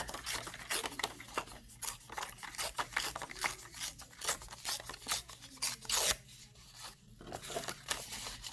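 Paper being torn by hand in a craft workshop, a run of close, dry ripping and crinkling strokes in quick irregular bursts, with a faint low hum underneath and no talk.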